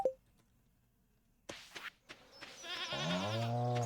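A goat bleats in the Stardew Valley farming video game: a few soft clicks and thuds, then a loud, drawn-out, wavering bleat that closes the moment, with no talking.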